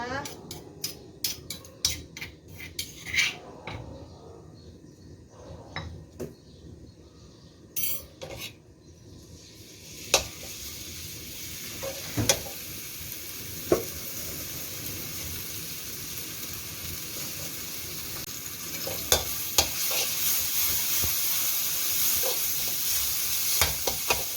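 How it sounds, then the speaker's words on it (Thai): A Thai three-seasoning paste of garlic, coriander root and pepper is stir-fried in a pan, with sharp metal spatula scrapes and clinks against the pan, then a steady sizzle rises and holds under further occasional knocks. "นำสามเกลือของเราลงไปผัดให้หอมนะคะ"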